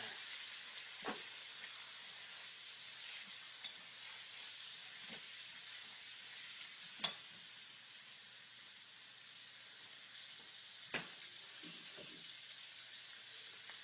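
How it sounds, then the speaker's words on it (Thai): Pork stir-frying in a pan for a spicy pork and bamboo shoot dish gives a steady close sizzle and hiss, with a few sharp clacks of the utensil against the pan. "ตอนนี้เราก็ผัดหมูให้สุกค่ะ"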